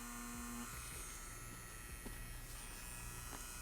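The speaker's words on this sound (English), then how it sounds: "the Inkclaw tiny pin is definitely capable of giving us that stipple" An Inkclaw Tiny Pen tattoo machine stippling with the very tips of its needles gives a steady, close electric buzz that holds without a break, with small flickers in its tone.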